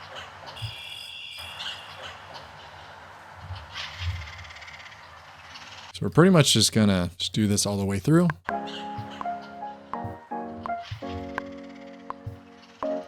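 Sampled bird calls from an LA atmosphere library, harsh cawing and chirping cries with insect-like buzzing, loud and close in the second half after someone talks quietly over faint ambience.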